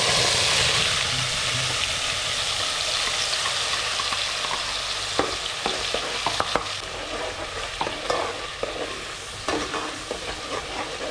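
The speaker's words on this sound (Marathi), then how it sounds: "मिरची कोथिंबीर लसण खोबरं टमाटर हे सर्व आपण तेलामध्ये शिजवूया" A ground paste of green chili, coriander, garlic, coconut and tomato fries in hot oil for a fish curry, giving a steady loud sizzle with scraping stirs and clacks of a spoon against the pan in the second half.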